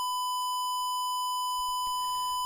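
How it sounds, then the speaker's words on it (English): A signal generator puts out a steady square wave tone, one buzzy pitch held without a break from start to end, with faint knocks and handling noise beneath it. "Now we'll have a look at a square wave and see the difference"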